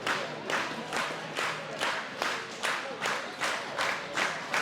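A wrestling event crowd claps in a rhythmic unison pattern, about two bursts a second, with cheering and shouts mixed in. It sounds like a room-sized audience heard from within.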